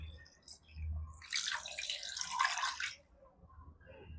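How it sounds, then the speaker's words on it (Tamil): Water pours steadily into a cooking pot for about two seconds, a bright splashing stream that starts and stops cleanly in a quiet room. "1 டம்ளர் தண்ணி ஊற்றிக்கணும்"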